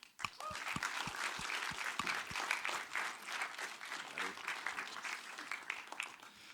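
An audience at a construction industry premiere event claps to welcome a speaker to the stage, beginning with a few separate claps and swelling into a steady, moderately loud round of applause.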